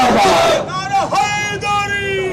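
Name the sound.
street protest crowd chanting slogans against America and Israel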